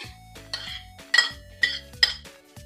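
Kinilaw na pasayan ingredients with tomatoes being mixed in a bowl: a close series of clinks and scrapes of a spoon against the bowl, about five distinct bright strikes in a steady stirring rhythm, with no talk.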